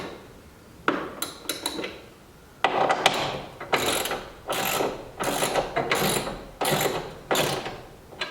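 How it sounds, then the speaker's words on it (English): A ratchet wrench tightens bolts on a garage door track, giving a series of close, rapid clicking bursts with short pauses between strokes, loud and without talk. "then you can take the wrench and tighten these up"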